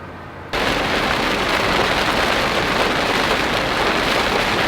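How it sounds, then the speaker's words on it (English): Heavy rain drums steadily and loudly on an RV being driven eastbound out of Texas, a dense, unbroken roar that starts abruptly after a quieter half-second and holds at full intensity with no talk. "This is what gives me anxiety. Heavy rain."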